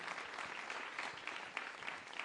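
Audience applause ripples through a youth forum hall, a continuous moderate patter with a few sharper claps standing out near the end.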